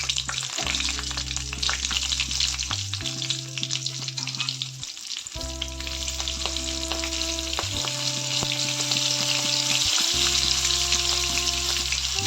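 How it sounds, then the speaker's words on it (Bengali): Potatoes with cumin and green chilli tempering in hot oil for a Bengali fish and aubergine curry, a steady loud sizzle throughout, broken by tonal hum bands and occasional stirring clatter, with no voices. "তেল গরম হয়ে গেছে এখন ফোড়নে দিয়ে দেবো আলু জিরে আর তেলটা কাঁচা লঙ্কা"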